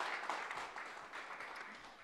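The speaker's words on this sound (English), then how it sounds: "I think we need a round of applause for Carolina." Audience applause fills a talk venue: a soft, steady wash of clapping from many hands that continues for a couple of seconds at low volume.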